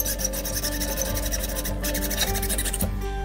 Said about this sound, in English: we first need to take a hacksaw and cut a tiny bit out here so we can get it over the shock shaft